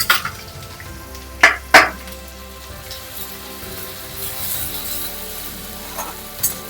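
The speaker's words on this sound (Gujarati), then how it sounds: "2 ચમચી જેટલી આદુ મરચી નાખી દઉં છું." Grated ginger and chili hit hot oil already holding cumin, sesame seeds and curry leaves, giving two sharp spitting bursts followed by a soft, steady crackle.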